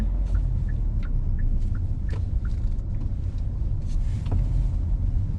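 A Hyundai Santa Fe cruises along a city expressway at night, its steady low road and engine rumble filling the cabin, with a few faint ticks and clicks on top and no talking.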